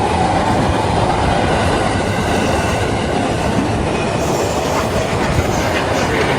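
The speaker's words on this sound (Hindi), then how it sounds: "और वो देखिए अगर सामने तो ट्रेन जो है वो ये देखिए ट्रेन गुजर रही है।" A train rolls past a railway level crossing, loud and close. Wheels clatter in a steady clickety-clack with faint squealing, a continuous heavy rumble that stays strong throughout.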